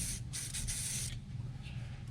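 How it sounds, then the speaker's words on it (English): Kroil penetrating oil sprayed from a can onto a bleeder nut in short close hissing bursts, with a low hum underneath and no talking. "I'm going to spray it on there."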